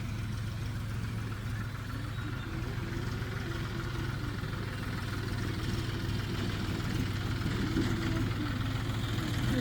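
A tractor engine runs steadily at a low, throbbing idle on rural farmland, continuous and moderately near, with faint voices now and then.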